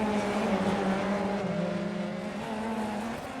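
F3 open-wheel race cars scream down the long straight at Belle Isle, Detroit, in sim racing, a steady high engine drone holding pitch with slight shifts, loud and close.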